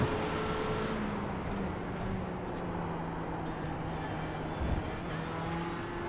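A Ferrari 488 GTE in iRacing at Sebring at night: a steady, faint engine drone with shifting pitch from gear changes, heard distantly and continuously without any talk.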